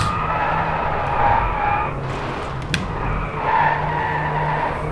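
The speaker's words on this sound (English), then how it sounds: "interior car sound" Steady engine drone inside a racing car in the video game Driveclub, with a brief tire skid or squeal rising over the continuous hum; slightly muffled and even in level.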